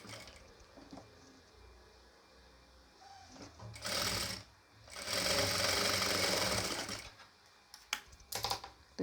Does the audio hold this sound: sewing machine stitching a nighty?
yes